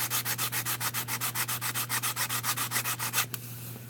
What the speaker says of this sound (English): In the body world, they call it a board, sanding board.